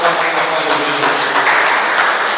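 A church congregation claps together during a service, giving a steady, dense wash of applause that holds at an even loudness the whole time.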